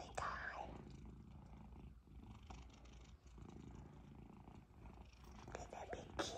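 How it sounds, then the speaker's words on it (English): A big domestic cat purrs close up, a soft rumbling purr running steadily through the whole stretch with slight swells in loudness. "That big purr boy"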